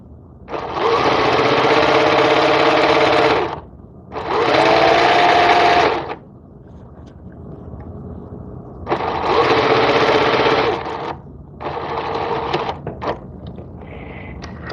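A sewing machine stitches over a seam in loud, steady whirring runs, about four bursts of a few seconds each, separated by short pauses as the fabric is eased along.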